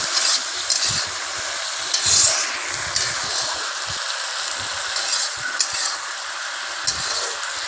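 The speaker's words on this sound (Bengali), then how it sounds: "আবারও একটু খুন্তি দিয়ে নাড়িয়ে নেবো" A metal spatula stirs vegetables with Indian pennywort leaves and a little salt in a pan, producing uneven scraping and rubbing strokes over a continuous light sizzle, close by and with no voices.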